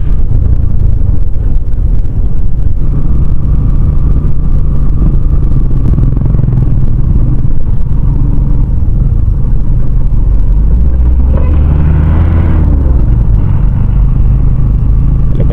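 Motorcycle riding a bumpy road near the seaside toward Paracale, Camarines Norte, its engine rumbling loud and close with heavy wind buffeting the microphone, the pitch rising and falling as it accelerates.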